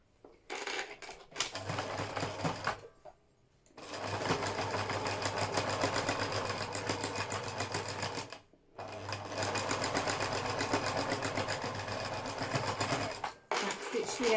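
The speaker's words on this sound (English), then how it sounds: "So sew right along the top edge." A sewing machine stitches along the top edge of face mask fabric pieces in long steady runs, pausing twice briefly between bursts, loud and close.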